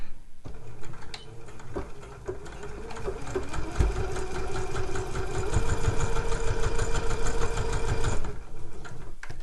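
A sewing machine stitching a zip tote bag, running in a steady, fast mechanical whir with a rhythmic ticking of the needle, starting and then holding a continuous pace before stopping.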